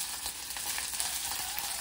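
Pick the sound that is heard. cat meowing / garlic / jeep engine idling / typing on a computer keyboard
garlic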